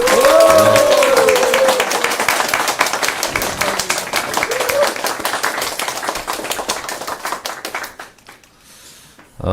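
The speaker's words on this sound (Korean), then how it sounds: "큰 박수 부탁드립니다." Crowd at a political party members' meeting clapping loudly and steadily, with individual claps close by and a voice tone heard early; the applause dies away near the end into quiet.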